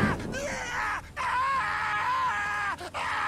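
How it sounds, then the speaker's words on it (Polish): A man screams and groans in agony in The Witcher 3: Hearts of Stone, loud, sustained wailing cries with brief breaks, close and alone without other talk. "Uszy mi więdną od tego wrzasku."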